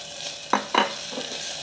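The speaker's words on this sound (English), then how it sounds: "We're adding our garlic, ginger, and crushed red pepper. We're going to cook this for about 30 seconds." Garlic, ginger and crushed red pepper sizzle in a hot pan as orange chicken is made, with two quick stirring scrapes over a steady frying hiss.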